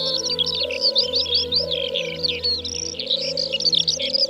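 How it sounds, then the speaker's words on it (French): A Eurasian bullfinch sings in the Plaines-Villes at Ploufragan, Brittany, with a steady run of close, bright chirping notes over a continuous low droning hum. "comme le bouvreuil pivoine, qui est maintenant sur la liste rouge des oiseaux en"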